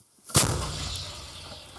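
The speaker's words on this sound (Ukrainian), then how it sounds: "Постріл!" A single loud artillery shot booms out suddenly on a Ukrainian front-line position, followed by a long rumbling echo that slowly fades across the open air.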